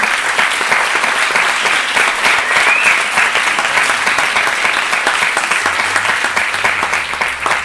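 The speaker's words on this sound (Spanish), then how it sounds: "un aplauso para todos los que habéis estado y habéis venido al encuentro" Sustained, dense applause from an assembled audience at the closing session of a gathering, steady and loud for the whole stretch with no voices over it.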